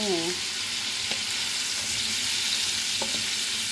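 Shrimp fry in a pan with a loud, constant, close sizzle throughout, broken by a few faint clicks of stirring.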